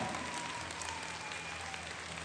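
Audience applause at a live Marathi dance and entertainment program, a dense, steady crowd clapping that is fairly distant and soft, continuous for a couple of seconds.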